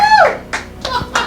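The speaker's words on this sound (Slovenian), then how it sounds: "Kakšen aplavz za Aleksandra" A few scattered handclaps in a radio studio for a magician, sounding as three or four separate, close claps after a brief vocal exclamation, rather than a full crowd.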